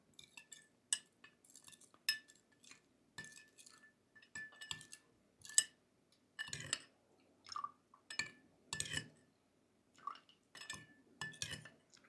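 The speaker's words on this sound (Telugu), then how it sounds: "ఒక హాఫ్ స్పూన్ అంతా మనకు చూర్ణం ఇందులో వేసేసుకొని, కండ చక్కెర కొద్దిగా మనకు రుచి కోసము ఇట్లా వేసేసుకొని కలుపుకోవాలన్నమాట" A spoon stirs half a spoonful of herbal bone-strengthening powder and a little rock sugar in a glass or cup, giving repeated light clinks and scrapes in irregular bursts, close and moderately loud, with no talking.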